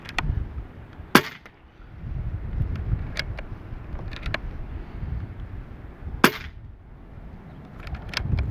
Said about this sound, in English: I'm going to take a couple shots to see if it actually rotates